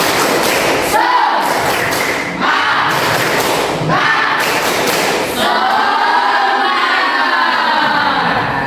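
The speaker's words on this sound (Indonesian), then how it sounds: "mari kita melakukan tepuk semangat dulu" Class of schoolchildren in an Indonesian classroom doing a rhythmic spirit clap, loud patterned bursts of clapping broken by short pauses, with children chanting and shouting along.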